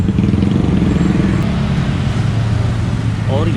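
Dense motorbike and Grab bike traffic on a busy Jakarta night street, a continuous loud rumble of engines passing nearby, with someone talking over it.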